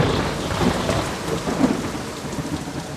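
A heavy rainstorm with strong cold winds over a residential colony at night, a continuous broadband roar of pouring rain and gusting wind, steady and fairly loud throughout.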